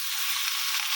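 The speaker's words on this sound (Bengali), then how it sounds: "ভালো করে ভেজে নেব।" Green plantain, boiled unpeeled with salt and turmeric, frying in a pan with prawns and green chilli, giving a steady, close, continuous hiss and sizzle with no speech.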